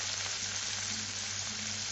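Potato and pumpkin pieces fry in a pan, giving a steady, close sizzle with a soft crackle and no voices.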